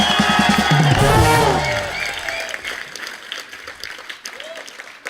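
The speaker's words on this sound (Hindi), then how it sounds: "बच्ची और गीता के लिए जोरदार तालियां।" Studio audience on a Valentine special TV show bursts into loud applause and cheering for cricketer Harbhajan Singh and actress Geeta Basra, peaking early then tapering into scattered claps and whoops.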